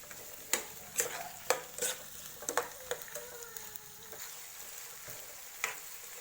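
Chopped tomato being stirred into poha masala in a pan: a series of sharp spoon scrapes and knocks against the pan over a faint, quiet sizzle, close and irregular, with no talking.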